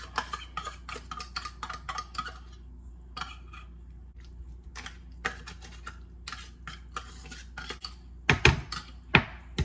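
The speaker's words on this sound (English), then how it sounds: "get a fork, get this all out into this bowl with the onions in it, and then flake it apart" Fork clinking and scraping in a bowl while flaking tuna apart with onions, irregular clusters of sharp metallic taps, louder bangs near the end, no talk.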